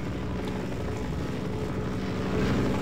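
Helicopter from the video game Half-Life: Source, a steady loud rotor and engine drone filling the whole stretch without pause, no voices.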